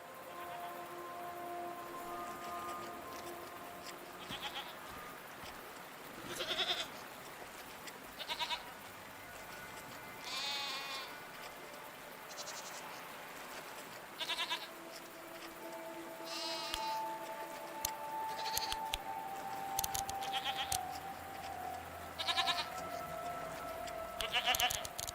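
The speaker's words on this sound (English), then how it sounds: "Apakah si domba bisa diinteraksi?" Sheep bleating repeatedly in Seasons: A Letter To The Future, scattered calls rising over a soft steady rain-like background across the whole stretch, no voices.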